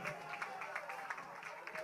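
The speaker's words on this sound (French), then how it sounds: "On les applaudit s'il vous plaît." Stadium crowd at the Stade des Martyrs applauding performers at a rap gospel closing show, a steady wash of clapping and cheering with rhythmic bursts, fairly distant and continuous.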